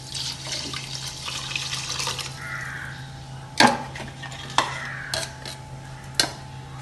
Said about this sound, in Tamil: 4 கப்பு தண்ணி ஊற்றிக்கிறோம்.